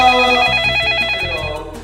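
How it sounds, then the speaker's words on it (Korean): A telephone bell rings loudly in steady repeated bursts over a school student council's comedic welcome-back segment, with a faint low thumping underneath and no speech. "팬 전화를 주셨는데 한번 받아볼까요?"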